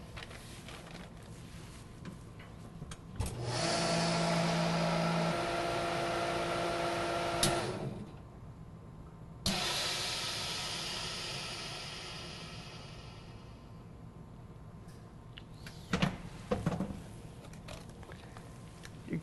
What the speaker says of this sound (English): We place our product inside the vacuum machine using our slant tray.